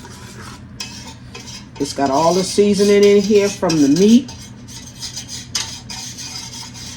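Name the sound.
whisk stirring gravy in a pan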